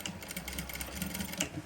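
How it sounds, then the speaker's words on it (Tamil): A sewing machine runs steadily while stitching a princess-cut saree blouse, its rapid needle clatter coming close and continuous for under two seconds, with no talking. "இதில் ஒரு கட்டு தையல் ஒன்று போட்டு விடுவோம்."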